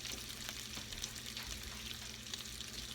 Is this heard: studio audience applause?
no